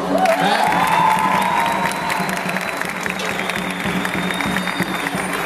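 A crowd at an evangelization caravan event breaks into applause mixed with cheers and whoops, loud continuous clapping with a rising shout and a whistle-like tone early on, children's voices audible in the mix.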